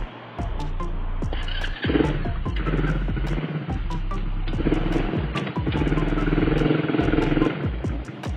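A small L&P Thunder 150 ATV engine starts up with a key and is then shut off. It chugs loudly and roughly at idle with rattling clatter, and the sound drops away briefly at the start and end.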